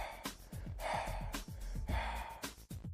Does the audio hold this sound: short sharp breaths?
yes